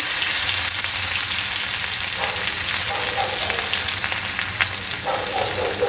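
Chili and garlic paste sautéing with cumin in hot oil, a dense, continuous loud sizzle with faint occasional stirring underneath.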